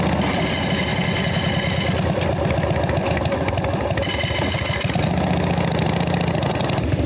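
Jockey-shift foot-clutch motorcycle idling in neutral, a steady, close, throbbing engine rumble that holds constant throughout, with faint mechanical ticking and no talk over it.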